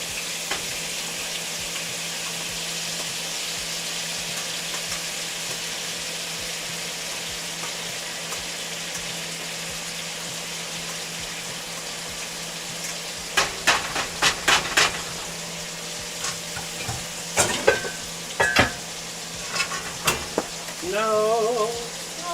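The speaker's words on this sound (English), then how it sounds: "we're gonna take our jackfruit and put it in the pan" Jackfruit frying in sunflower oil in a pan gives a steady, close hiss of sizzling throughout, joined near the end by sharp clatters and knocks of utensils and cookware.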